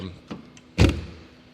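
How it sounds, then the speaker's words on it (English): A classic car's door is pushed shut at an auction sale, giving one solid thud near the middle after a couple of lighter knocks and rattles, heard close up. "I'll get the door to shut even better."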